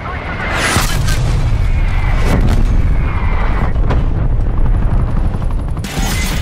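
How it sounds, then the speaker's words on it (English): Artillery strike in the Call of Duty video game, dense rolling booms and rumbling blasts with sharp gunfire cracks, loud and continuous under voices talking. "Artillery targeting detected. Artillery inbound."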